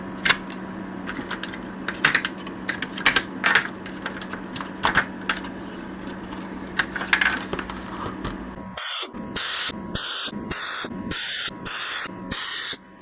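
Cleaner sprayed from an aerosol can with a partly blocked nozzle onto a 1986 Sinclair Spectrum+2 computer board: after quiet workshop noise, seven or eight short, loud hissing bursts come in rapid succession, close up.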